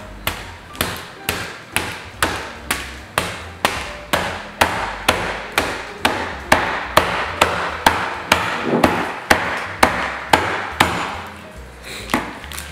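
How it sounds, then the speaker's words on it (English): Butter in a plastic bag being flattened with a can, making a long, evenly spaced series of firm, close thumps with no voices. "I'm just gonna take this butter and flatten it out"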